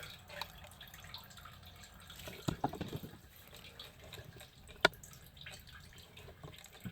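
Gasoline trickles and drips from a removed fuel pump and sender assembly of a 2014 vehicle into a pan, a quiet, irregular patter with a short burst of splashing mid-clip and a sharp drip or tap later.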